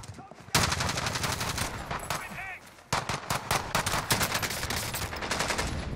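SMG and pistol fire rattle through a Call of Duty: Modern Warfare firefight, with dense rapid bursts and sharp single shots nearly continuous, close and loud, with a brief gap partway through and a voice faintly underneath.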